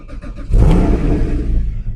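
A 2016 Porsche Cayman 981 GT4 Clubsport with a manual gearbox and flat-six engine, revved with the clutch in: the engine idles briefly, then surges into one loud, close rev held for over a second before easing slightly.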